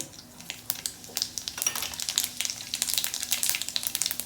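Crackling, popping sizzle of mustard seeds in hot oil, with sharp irregular pops growing denser over a few seconds, close by with no talking.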